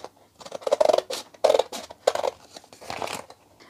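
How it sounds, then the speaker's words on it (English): Scissors cut out a paper circle in a few short bursts, close and fairly quiet, with soft paper crinkling between cuts. "I'm going to grab my scissors and cut this circle out."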